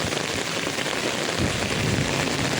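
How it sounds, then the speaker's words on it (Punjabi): Very heavy rain falls outdoors as a dense, steady wash of hiss close to the microphone. No voices are heard. "ਆਪਾਂ ਮੀਂਹ ਵਿੱਚ ਹੀ ਬਾਹਰ ਆ ਗਏ ਆ"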